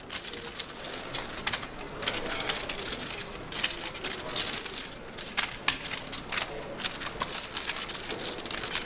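Clattering poker chips tossed into the pot during a high-stakes tournament hand, a dense run of clicky rattles and crinkles filling the stretch with no talk over it.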